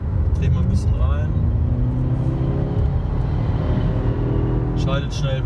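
A Jaguar XE 30t accelerates up close, its engine note climbing steadily as the automatic gearbox shifts up quickly. The drone is continuous and loud, with a voice talking over it.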